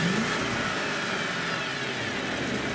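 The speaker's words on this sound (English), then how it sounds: "we'll look into the engine bay here and listen to the sound of the motor" A 2011 Bentley Mulsanne's twin-turbo V8 engine revs up steadily, a dense mechanical roar that holds close and loud throughout without pause.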